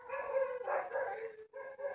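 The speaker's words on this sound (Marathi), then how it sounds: "कुत्रे भुकते चारी बाजूला" Dogs in a village near Jyotiba temple howl in the dark before dawn: a long, sustained, wavering howl with a brief pause before it rises again, fairly clear and with no talk.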